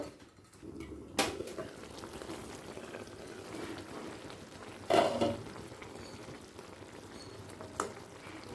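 A pan of white potato curry with nigella seeds simmers with a faint, steady bubbling and sizzle, broken by a few brief louder clatters or bursts, with no talking.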